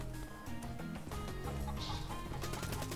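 Chicken clucking from the Dead Ops Arcade 2 mode of Black Ops 3, loud and continuous within a dense mix of game music and effects, with no talk over it.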